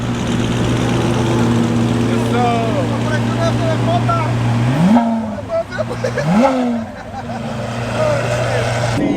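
A Chevrolet Camaro ZL1 engine holds a steady idle, then jumps into two quick, loud revs that fall back, while people talk over it.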